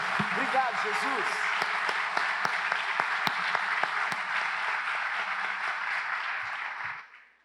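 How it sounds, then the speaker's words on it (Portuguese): Church congregation celebrating a 16th anniversary claps and cheers, with individual sharp claps and voices over a broad wash of applause that fades out abruptly near the end. "Dá mais uma salva de palmas a Deus pelos 16 anos da Bethesda."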